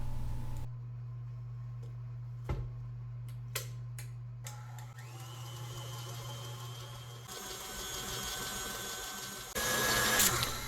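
A mixer beats air into cream cheese pound cake batter, giving a steady low motor hum that runs throughout, with scattered sharp clicks and scraping taps against the bowl and a brighter, busier whir toward the end.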